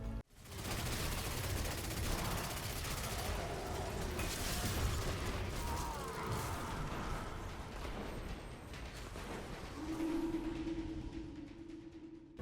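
The Heir Apparent heavy machine gun fires in the Destiny 2 video game: a dense, sustained roar of rapid gunfire that runs about ten seconds before easing off, with mechanical whirring near the end.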